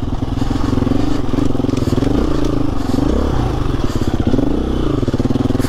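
An off-road enduro motorcycle rides close and loud, its engine buzzing and rising and falling steadily while gravel and parts clatter and scrape underneath.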